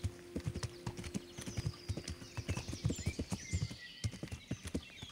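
Horse hooves while riding in Kingdom Come: Deliverance, a quick regular clip-clop gait of many close, crisp hoofbeats over faint ambient birdsong, no talk.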